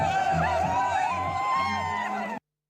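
Tourists crowd Mall Road in Manali, celebrating amid falling snow: a dense, close mix of cheering, whooping and excited voices that continues steadily for a couple of seconds, then cuts off.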